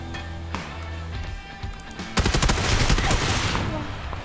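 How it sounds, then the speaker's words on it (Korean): Distant gunfire in a battle royale video game: scattered shots early, then a dense burst of rapid automatic fire that keeps rattling for a couple of seconds, moderately loud over game ambience. "와, 멀리서 쏜다."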